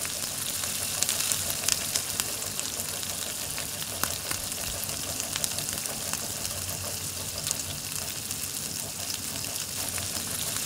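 Prawns frying in hot oil for a golden fried prawn recipe give off a steady, close sizzle with fine crackling that runs without a break.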